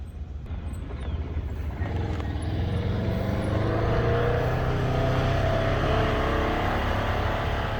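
A John Deere 5075 tractor hitched to a new turbo tedder runs steadily for hay, its low engine drone rising at the start and then holding close and loud against a broad rush of machinery.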